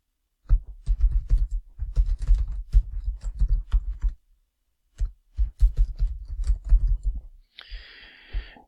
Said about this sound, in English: Type in the subject.